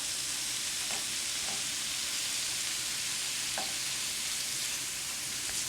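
Ground beef browns in a hot pan with a steady, dense sizzle and crackle, broken by a few soft scraping stirs, close and continuous with no talking.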